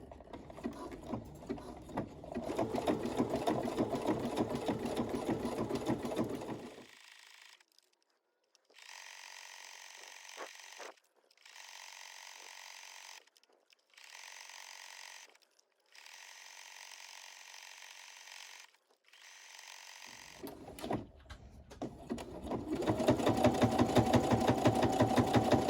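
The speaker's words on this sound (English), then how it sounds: "we are going to now top stitch that arm binding" A sewing machine top stitching the arm binding on a two-piece dance set, a steady rapid mechanical stitching that runs long, pauses, continues in several short bursts, then resumes at full speed.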